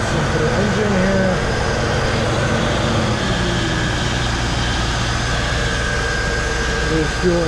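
A fuel-injected 1996 Chevrolet Corvette engine idles steadily and quietly with a low, even hum, alongside a faint fan-like whir of air conditioning; no one speaks.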